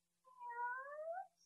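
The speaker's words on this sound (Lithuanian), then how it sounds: "mano brangioji katytė, tu grįžai" A single clear cat meow, drawn out over about a second with a gently rising and falling tone, close and alone against near silence.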